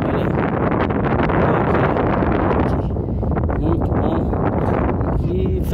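Strong, cold wind gusting at the shore of Lagoa Mirim in Rio Grande do Sul, roaring steadily and loudly across the microphone for the whole stretch with a constant buffeting rumble.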